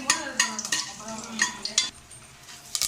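Fennel seeds sputtering in two teaspoons of hot oil inside a pressure cooker while tempering for a mutton bone soup, with quick irregular crackles and sizzle bursts up close, alongside faint clinks of a spoon against the pot.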